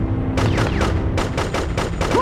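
Gunfire from the PS2 first-person shooter Cold Winter comes in loud, rapid bursts, several shots in quick succession with short pauses between volleys, over a steady game background.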